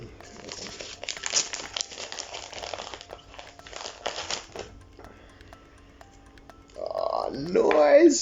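A mailed letter sealed with tape all the way around is handled and opened, with crisp crinkling and tearing of paper and tape up close, followed by louder close handling and rustling at the end.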